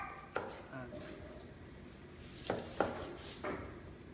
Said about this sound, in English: So we'll finish cutting off our pork, which is looking pretty good